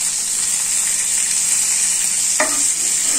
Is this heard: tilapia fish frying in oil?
yes